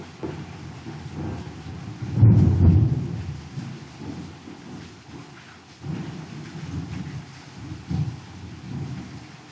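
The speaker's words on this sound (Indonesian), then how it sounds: "Lagi hujan teman-teman, lagi hujan." Heavy rain pours steadily while a loud rumble of thunder rolls through near the start, followed by softer rumbles later, with no talking.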